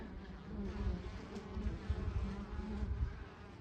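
Honey bees buzz densely around a busy hive in August, a close, continuous swarm drone that swells and fades slightly with no voices.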